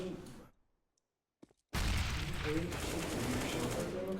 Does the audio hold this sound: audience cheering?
no